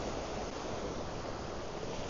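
Ocean waves washing onto a beach, a steady soft broadband rush of surf that stays even and fairly quiet for the whole short stretch, with no voices.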